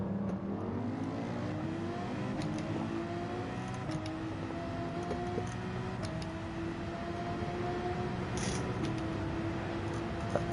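A Porsche GT3-class race car in Gran Turismo 7 drives a lap at Spa, its engine droning steadily with rising and falling pitch through gear changes, a continuous close engine note with faint ticking clicks on top.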